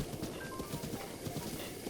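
Horse hooves clip-clop in The Legend of Zelda: Breath of the Wild, a fast, steady stream of soft thuds over a noisy background.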